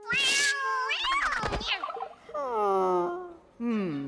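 A cartoon cat meows in a string of drawn-out, wavering cries, loud and close, with bright squeaky accents between them and no speech.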